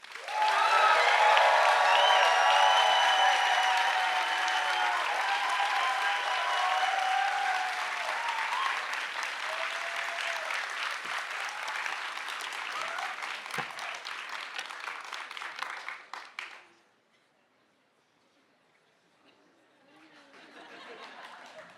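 A science slam crowd at Berlin Science Week breaks into sustained, loud applause with some cheering and laughter, fading out, then a quieter burst of clapping returns.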